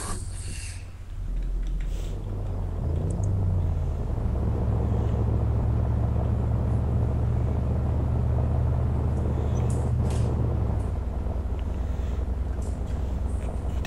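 Helicopter in the ARMA II military video game, a loud, steady low droning rumble with a constant rotor hum that holds unbroken for the whole stretch.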